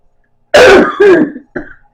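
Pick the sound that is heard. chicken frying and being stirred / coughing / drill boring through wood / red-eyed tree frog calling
coughing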